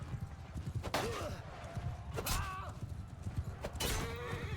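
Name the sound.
horses in battle, from the video game Eagle Rising Spartacus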